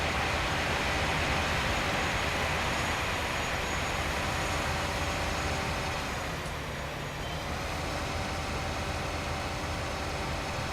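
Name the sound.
train rattling along in Farming Simulator 19 video game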